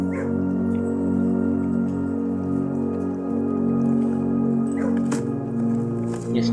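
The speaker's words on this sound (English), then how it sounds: "Oh, hello, doggy. Hello, doggy. Hello, other doggy." Dogs in the video game Blue Prince give soft whimpering yips and barks over a steady droning game soundtrack, fairly close and moderately loud.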